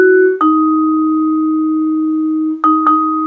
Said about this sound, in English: I'm just going to play it in my mallets and see what it sounds like